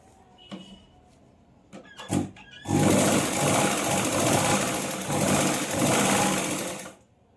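A sewing machine runs steadily for about four seconds, loud and close, as it stitches saree fabric for a gudhi cloth, after a few quiet clicks and taps.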